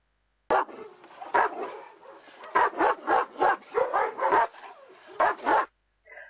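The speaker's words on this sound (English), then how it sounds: "bring on the guard dogs" Guard dogs barking for security protection, a series of loud, close barks in irregular bursts, some clustered rapidly, then silence at the end.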